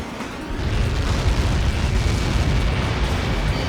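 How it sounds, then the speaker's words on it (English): A deep, roaring explosion rumble in Ace Combat 7 that swells after a brief pause and keeps churning with heavy low-end noise, no voices. "How many got caught in that explosion?"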